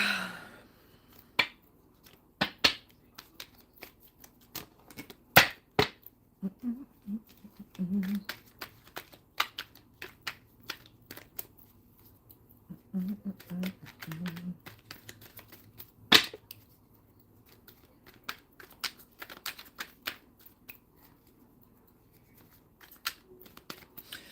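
A deck of tarot cards being shuffled, heard as quiet, irregular clicks and riffling snaps spread throughout, with a faint voice murmuring briefly a couple of times.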